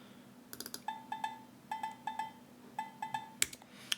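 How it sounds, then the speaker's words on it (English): Low agogo bell from Logic Pro percussion, EQ'd to remove low end, struck in short clusters of bright metallic pings, fairly faint against a quiet background. "the first one is an agogo"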